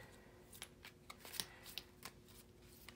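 Tarot cards being shuffled up close, a quiet sequence of soft riffling flicks and taps at an uneven rhythm.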